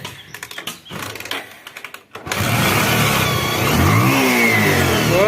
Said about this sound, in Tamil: பெட்ரோல் வண்டி ஸ்டார்ட் பண்ணிடலாம்.